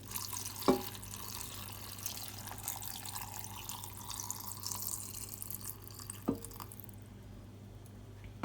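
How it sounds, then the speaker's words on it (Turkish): Drinking water is poured over green olives in a jar, giving a soft, continuous trickle and splash with a couple of small clinks, fading out near the end. "İçme suyu hemen şöyle üstüne gelecek şekilde hemen ekliyorum."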